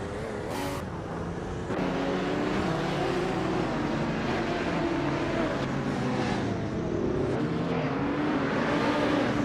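A 1989 Ferrari F40 racing in a video game, its engine a continuous loud roar with shifting pitch as it revs through the race, holding steady throughout.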